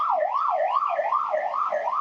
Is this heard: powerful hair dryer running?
no